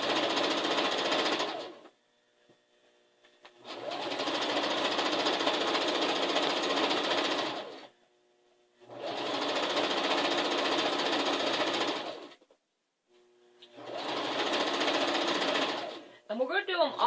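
A sewing machine stitches a one-fabric quilt top in three long, steady whirring runs separated by short pauses, close and clear, with a brief rustle at the end.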